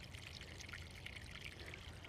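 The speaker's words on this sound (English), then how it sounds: "You can see all of this running water, and hopefully you can hear it as well." Running water of a mountain stream at San Cristóbal, Chile, splashes and trickles steadily, a soft continuous burble heard close by.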